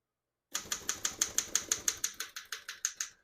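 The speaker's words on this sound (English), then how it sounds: "We're going to keep that on single for now and finish typing." Keys strike on a 1938 Royal KMM vintage portable typewriter in a steady run of about fifteen crisp, evenly spaced clacks, close and clear with nothing else heard.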